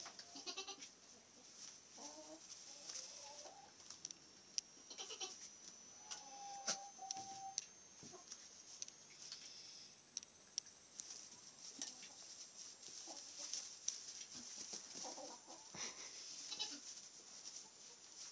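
Nigerian Dwarf goat kids bleat intermittently at a distance, a few scattered calls over a quiet outdoor background with occasional faint noises.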